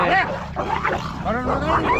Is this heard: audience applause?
no